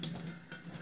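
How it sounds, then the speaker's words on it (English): Water runs steadily from a kitchen tap, likely into a colander in the sink, with a soft continuous hiss and splash close by. "turn on the water"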